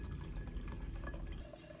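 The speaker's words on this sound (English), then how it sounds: "Then, I pour in 1 liter of boiling water and stir the mixture well." Boiling water, one liter, is poured into a clean glass jar holding a spoonful of turmeric powder. A brief continuous liquid pour sounds close and steady, with no voices.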